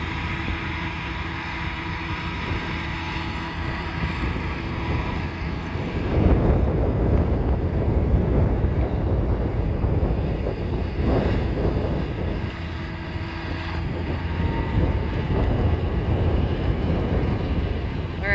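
Strong wind buffets the microphone in a steady, loud roar, with heavier gusts swelling midway and again toward the end.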